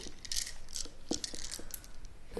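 A dice-shaped life counter is handled up close in a quiet ASMR setting, making a series of small, crisp clicks and taps scattered irregularly over a couple of seconds.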